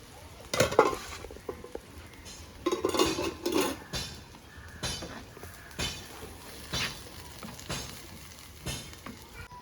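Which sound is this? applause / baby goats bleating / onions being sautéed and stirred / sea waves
onions being sautéed and stirred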